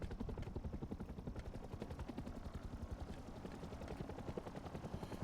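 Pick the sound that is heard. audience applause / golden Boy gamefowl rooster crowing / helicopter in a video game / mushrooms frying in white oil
helicopter in a video game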